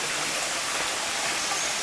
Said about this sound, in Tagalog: Eto na ang aming liliguan na batis.